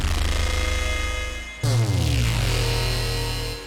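Sci-fi synth preset on Arturia Pigments 4 with distortion turned all the way up, a harsh dense buzzing tone that breaks off midway into a fresh gritty hit with a deep low growl, loud and sustained.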